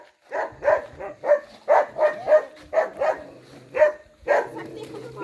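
Tethered dog on a rural farm barking repeatedly at close range, a run of about ten evenly spaced barks with some whimpering and voices in the background.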